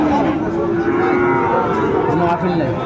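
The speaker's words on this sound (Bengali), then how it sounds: "আমরা দেখছিলাম এখানে বেশ সুন্দর একটি ষাঁড় বাচ্চা।" A young Sahiwal bull calf gives a long, loud mooing call close by at the Aftabganj cattle market, over a low murmur of the crowd.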